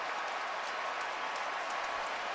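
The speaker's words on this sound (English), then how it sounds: "you can hear the applause because there are fans in the various suites surrounding the stadium that are watching our telecast" Fans in the suites around the stadium applaud during a 2011 NFL game between the Browns and Colts, a steady, distant wash of clapping that holds evenly throughout with no voices over it.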